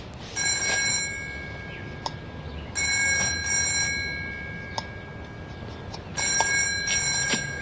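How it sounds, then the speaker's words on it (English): An old landline telephone rings in a 1988 Australian TV drama, three bursts of electronic trilling at steady intervals, clear and close in a quiet room, with no talking. "Come on, Millie, answer the phone."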